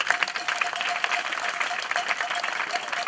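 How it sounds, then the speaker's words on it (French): Audience applause at a public ceremony in N'Sele, where 150 houses are being inaugurated; steady, dense clapping from a crowd fills the whole stretch at a moderate, even level with no voices over it. "J'aimerais que vous applaudissiez."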